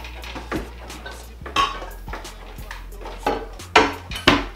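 A glass baking pan is picked up from among pots and pans in a home kitchen, giving a series of close clanks and knocks of glass and metal, with no talk.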